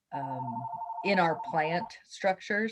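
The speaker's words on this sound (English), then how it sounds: "Sorry about that phone ringing." A phone rings in a home office during a work-from-home webinar: one steady, sustained electronic ring tone, then a person talks over the line.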